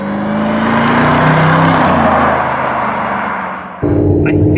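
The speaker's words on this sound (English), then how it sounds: "that supercharged, you can hear the whine" A supercharged Mercedes SLR on the move gives a loud, close engine drone with a rising whine layered on top, easing off briefly before surging back under acceleration.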